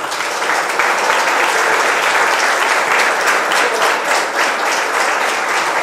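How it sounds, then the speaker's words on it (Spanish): Loud, dense applause from a trade union gathering fills the room, with many hands clapping in a steady wash that holds for several seconds without a break. "El aplauso para ustedes"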